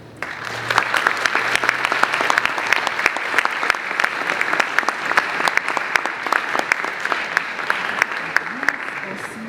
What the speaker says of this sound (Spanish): esto les pido para él un gran aplauso y una bienvenida